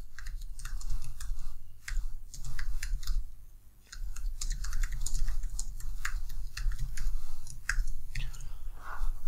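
Rapid typing on a computer keyboard while writing a Fortran program in VS Code on macOS, with quick irregular key clicks running almost continuously, close and clear, with only a brief pause near the middle.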